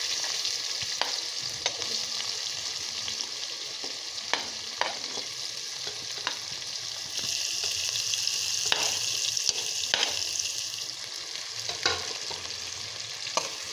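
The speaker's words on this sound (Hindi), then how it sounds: "जनाब ये मैंने प्याज डाल रही हूँ मैं ऑयल में। ऑयल गरम हो गया अच्छे से।" Onions sizzle in hot oil for a qeema aloo dish, a constant close frying hiss that swells midway, punctuated by regular taps and scrapes of a stirring spoon.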